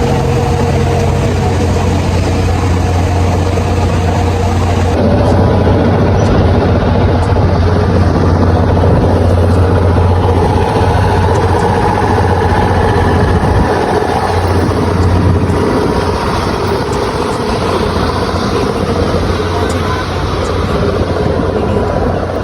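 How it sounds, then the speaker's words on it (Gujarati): Steady, loud engine drone inside a passenger plane cabin on a trip to Haridwar, a constant low rumble and whine that runs unbroken throughout. "અમે આ બેસી ગયા પ્લેનમાં, ફ્લાઇટમાં જવા માટે."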